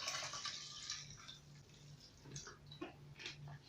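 Water poured into an opaque glass to top up a mixed drink, heard as quiet, close trickling and small splashes that come and go in short bursts.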